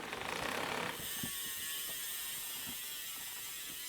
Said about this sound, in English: then I also just put on some new Hope Pro 5 wheels that sound pretty sick